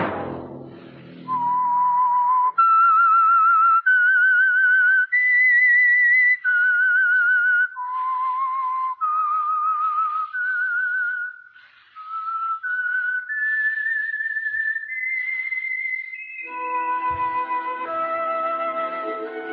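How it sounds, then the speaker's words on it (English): A single person whistles a slow, clear melodic theme alone, each sustained note held steadily in a rising and falling tune before a brief burst of orchestral accompaniment joins near the end, signature signal of the radio program The Whistler. "Let that whistle be your signal for the Signal Oil program, The Whistler"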